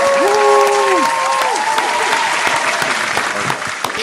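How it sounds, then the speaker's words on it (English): Studio audience applauds a podcast guest at the close of the final question, loud and sustained for about four seconds and tapering near the end, with some voices and whoops mixed into the clapping. "Round of applause."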